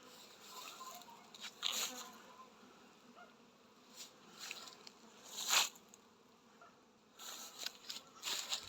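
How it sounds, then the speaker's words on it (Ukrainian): Honeybees on an orientation flight buzz faintly around the hive, individual insects zipping close by in brief louder passes against a quiet outdoor background. "Тут також бджоли вийшли на обліт."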